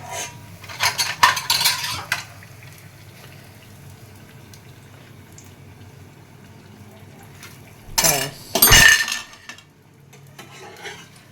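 Pots and metal utensils clatter and scrape as a husband cooks, with two loud bursts of clanging separated by a quieter stretch of low kitchen noise and faint talk.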